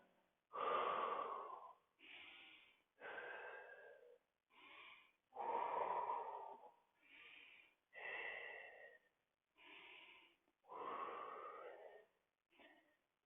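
Slow, deep breaths during a seated hamstring stretch, with about nine close, breathy inhales and exhales separated by brief silences, no talk.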